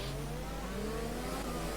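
Racing car engines in a racing video game set at Monaco, several cars revving and droning close together in a steady continuous roar, with no talk over it.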